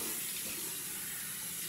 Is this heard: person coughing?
no